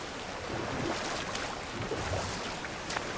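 A waterfall with surrounding water ambience in God of War Ragnarok rushes as a steady, dense wash of noise that stays even and unbroken throughout, with no voices.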